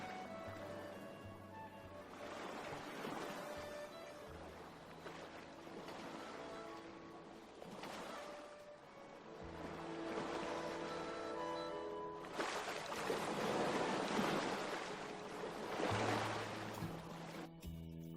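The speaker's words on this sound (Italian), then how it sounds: "Onde alla cala di sotto. Piccole." Small sea waves lapping in a cove, a soft continuous wash that swells and recedes in slow surges, fairly faint and steady throughout.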